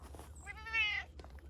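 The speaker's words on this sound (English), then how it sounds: "That meowing you hear is a one-eyed cat" One drawn-out meow from a one-eyed cat, fairly close and clear, rising and falling over about half a second outdoors beside earthbag walls, with a low constant background rumble.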